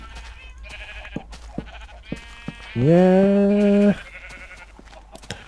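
A single sheep in Minecraft gives one loud, drawn-out bleat that lasts about a second, set against faint clicking game sounds and one brief spoken word.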